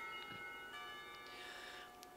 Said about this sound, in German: Die Schulglocke läutet zur Mittagspause